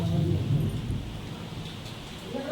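Low thunder rumbles through a heavy rainstorm, a deep rolling roar under steady rain hiss that stays loud throughout.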